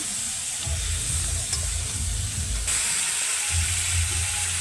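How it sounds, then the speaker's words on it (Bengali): Goat tripe frying in a pan with chili powder gives a steady hiss and sizzle, with low scraping stirs coming and going in bursts, close up and without speech. "লঙ্কার গুঁড়া দিয়ে দিই দেওয়ার পরে ভালো করে মাংসটা ভাটি নেব"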